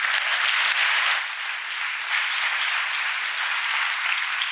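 A lecture audience breaks into sustained applause, a dense steady clapping that fills the room without talk.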